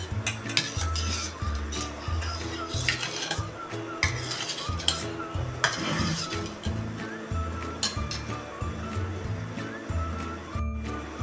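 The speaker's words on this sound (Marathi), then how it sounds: "आणि हे दही चांगलं मिसळून घ्यायचं आहे." Curd being stirred with a spoon in a metal bowl after a mustard-seed and asafoetida tempering is added, producing irregular clinks and scrapes of utensil against vessel, close and fairly busy.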